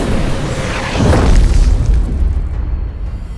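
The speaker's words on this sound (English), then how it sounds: "One meteor fell to Earth in my valley." A meteor streaks down and slams into a valley at night in an animated film, a loud rolling boom that swells around the one-second mark and then fades into a long, dark rumble.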